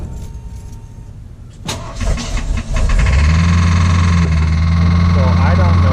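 A Ford F150 truck's engine cranks and fires up, settling into a loud, steady close-up idle after a quieter stretch of shuffling noises.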